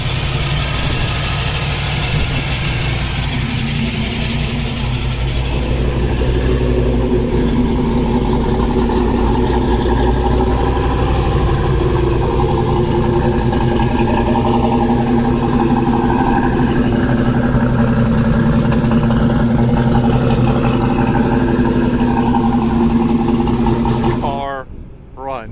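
A Ford Mustang SN95 V8 runs at a steady, loud, rumbling idle throughout after starting, with a continuous low drone and mechanical hum up close, cutting off abruptly near the end.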